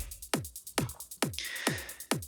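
Intro of an unreleased trance track: a steady four-on-the-floor kick with crisp hi-hats, a bright synth swell entering midway, loud and upfront with no voices.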